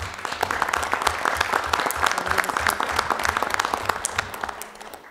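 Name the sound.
audience applause for donors at city council meeting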